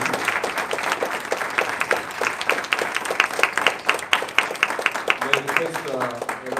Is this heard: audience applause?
yes